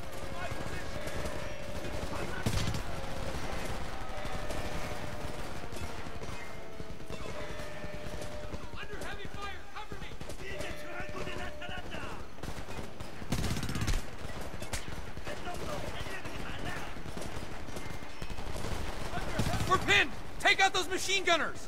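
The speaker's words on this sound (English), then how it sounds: "Machine gunners, first floor!" Gunfire in the video game Homefront, dense and continuous through the whole stretch with scattered louder bursts, mixed with game music and effects while voices speak over it.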